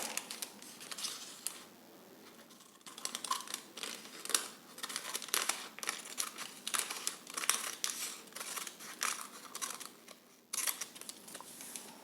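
Scissors cutting through a paper skirt pattern during sewing pattern making, a quiet close run of crisp snips and paper rustling and crinkling, with a brief lull partway through.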